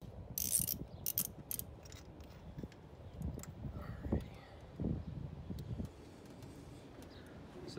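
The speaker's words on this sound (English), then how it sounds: "I'm gonna go ahead and get the rest of these spark plugs removed." A ratchet works spark plugs out of an MK6 Volkswagen GLI engine, with short bursts of clicking and a few metallic clinks amid low handling noise, close by and fairly quiet.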